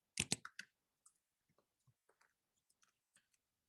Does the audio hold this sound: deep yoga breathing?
no